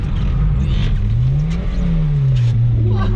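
Subaru Impreza GDB engine revving loud and close while drifting, a steady roar whose pitch climbs, dips and swells again through the slide with no talk over it.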